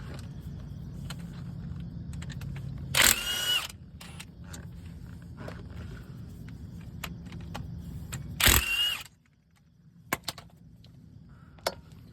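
Two short, loud bursts from a power tool break loose the 17 mm front caliper bolts on a 1999–2004 Jeep WJ Grand Cherokee, with quieter tool clicks and handling noises between and after.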